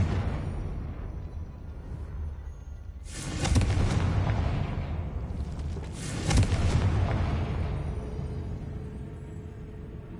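Confringo fire spell blasts in the Hogwarts Legacy video game, two loud booming explosions a few seconds apart, each with a rumbling tail over a steady ambient game background.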